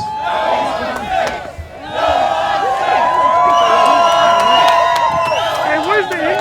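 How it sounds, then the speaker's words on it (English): A large outdoor rally crowd for Yes on 6 in Corona cheers and shouts, a loud swelling mass of voices with whoops, clapping and chanting that builds after a brief dip and holds near and full. "the crowd for Yes on 6 is way bigger than the No on 6 crowd"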